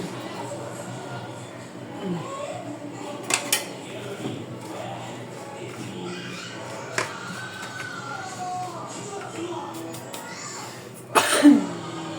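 A single sharp sneeze bursts out near the end in a home kitchen while breaded chicken cutlets are being prepared, following a stretch of talking, light coughs and faint clinks of dishes.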